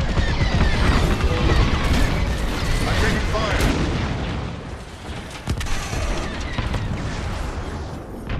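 Starfighter under attack in a Star Wars Squadrons fleet battle, with dense, continuous booms and crashing blasts rolling over one another throughout, loud and close, under a steady roar of combat.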